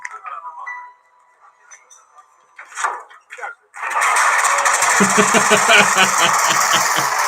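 Old engine with a spring recoil starter, likened to an aircraft engine, winds up with a few clinks and rasps, then bursts into a loud, continuous rattling roar with rapid firing pulses, close by, with voices talking early on.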